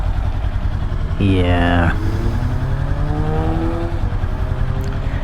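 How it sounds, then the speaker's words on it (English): A motorcycle with no exhaust fitted sits at a traffic light. Its engine gives one short, sharp rev over a steady idle, with wind rush around it and a person talking briefly nearby. "You like barely hear my engine at a light."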